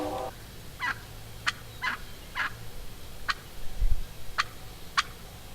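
Several short, sharp yelps and calls from a big, loud wild turkey hen ring out at intervals over a quiet outdoor background in Colorado, moderately close.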